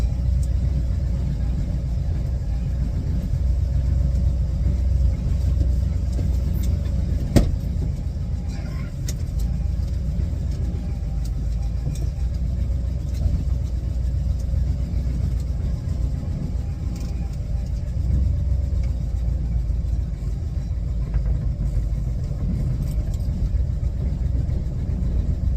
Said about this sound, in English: Go for a little drive.